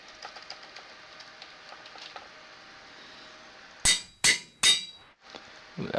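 In the Minecraft video game, an anvil rings with three sharp, loud metallic clangs in quick succession after a stretch of quiet ambient game sound.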